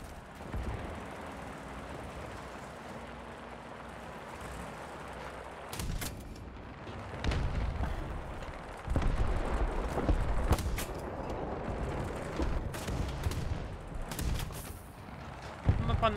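Heavy gunfire from an Sd.Kfz.140/1 Aufklärungspanzer reconnaissance tank in War Thunder, with loud booming shots bursting out several times amid rumbling battle noise, while a voice talks over parts of it.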